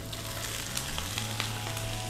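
Boiled broccoli tossed into a hot pan with fragrant garlic, stir-fried with a steady close sizzle and faint scraping, no voices.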